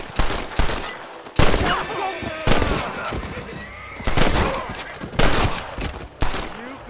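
Gunfire in the Western video game Red Dead Redemption: several loud, sharp shots and bursts ring out at uneven intervals, with sustained ambient noise and a few voices between them.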